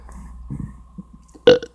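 A single loud burp erupts near the end, preceded by a few faint low murmurs and light background hum, close to the mic.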